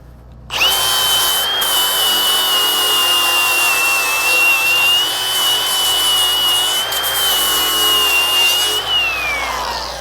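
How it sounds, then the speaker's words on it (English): A power tool grinds steadily on something for about ten seconds after a sudden start. It gives a loud, continuous high whine with a constant pitch that drops off as the tool winds down. "I am gonna grind it off"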